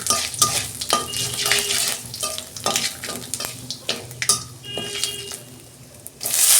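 Bay leaf and five-spice tempering fries in oil in a wok for an okra, potato and fish dish: a loud close sizzle punctuated by frequent stirring scrapes and spatula clinks, easing toward the end, no talk.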